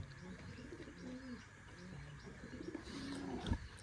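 Pigeons cooing around a village house: repeated low, soft rolling coos close by, with faint chirps from other birds in the background.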